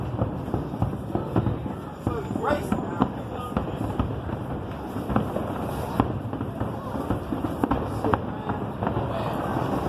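Fireworks crackle and pop in rapid, dense bursts throughout, loud and continuous, with a voice speaking briefly amid the barrage.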